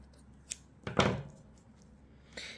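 Scissors snip through sewing thread: a small click, then one louder close cut, and a last faint snip.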